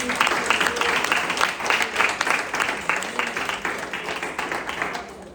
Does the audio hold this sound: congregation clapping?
yes